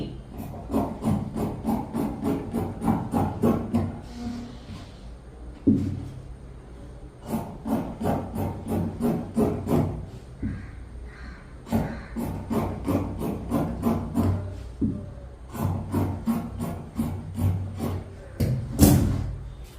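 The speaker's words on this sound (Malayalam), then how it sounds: "ഒന്നര ഇഞ്ച് വീതിയിൽ കുറച്ച് ക്രോസ് പീസ് കട്ട് ചെയ്തെടുക്കണം" Scissors snip through fabric while cutting 1.5-inch-wide cross pieces for the back neck of a pleated nightie, in repeated rhythmic bursts of crisp rasping cuts with short pauses between, close and fairly loud, no talking.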